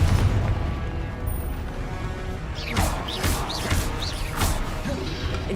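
Confringo blasting spell in Hogwarts Legacy going off as a series of about three or four whooshing, bursting blasts in the second half, over a steady low background rumble.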